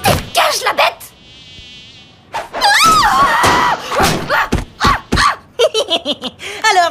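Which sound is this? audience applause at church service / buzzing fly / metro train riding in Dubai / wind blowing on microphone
buzzing fly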